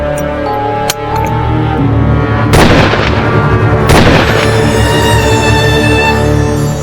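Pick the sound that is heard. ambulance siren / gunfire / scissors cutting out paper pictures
gunfire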